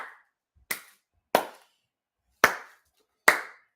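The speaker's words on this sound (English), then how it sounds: "Everyone stand up. Stand up in your living rooms and clap." Five separate sharp hand claps at home during a Blue Jays–Braves baseball game stream, close and crisp, spaced unevenly with silence between each.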